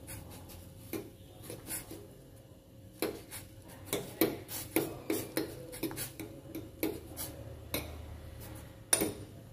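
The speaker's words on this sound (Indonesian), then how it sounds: "Kita aduk dulu." Fried misoa noodles are stirred in a pan with a utensil, giving faint, close scrapes and a run of light clicking taps against the pan, with no talk.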